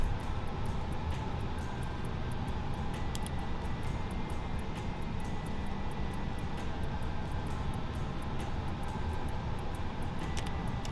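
Aircraft engines in Microsoft Flight Simulator drone as a steady, even, broadband hum at moderate level for the whole stretch, with no voices.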